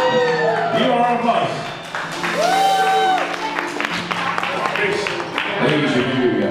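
Party guests at a Halloween party give a round of applause, a steady, fairly loud clapping that runs the whole time, mixed with crowd voices, laughter and bits of talk.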